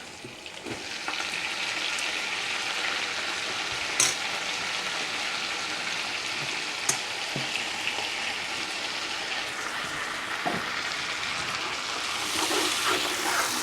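Tomato, mint and coriander sauté in oil for mutton biryani, giving a steady broadband sizzle throughout with a few faint scrapes and taps of a stirring spoon and no voices.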